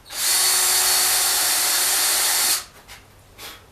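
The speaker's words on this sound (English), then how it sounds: "I don't want to drill all the way through my wood." A power drill whirs loudly and steadily for about two and a half seconds, then stops, leaving quieter faint handling sounds.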